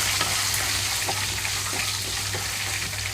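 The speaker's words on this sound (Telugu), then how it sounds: "ఇక్కడ పచ్చిమిరపకాయలు కూడా కొంచెం సేపు వేయించుకుంటున్నాను" Green chillies and dals fry in hot oil for a tomato chutney, giving a dense, even sizzle that runs the whole clip at close range with faint clicks from the pan.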